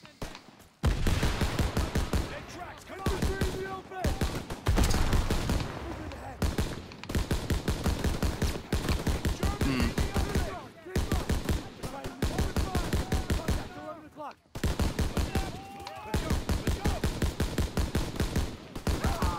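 A Browning machine gun fires in Call of Duty: WW2, long rapid bursts of loud, close automatic fire with brief pauses, shouted voices and battle noise underneath.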